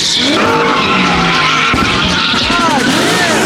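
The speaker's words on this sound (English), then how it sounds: "something's over there revving" A car engine revs hard with squealing tires, loud and close, rising and falling pitch sweeps over a constant roar, with a voice speaking over it.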